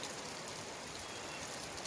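Rain falls steadily outdoors in a heavy shower. It makes a continuous, even hiss of drops on surfaces, fairly soft and with no voices over it.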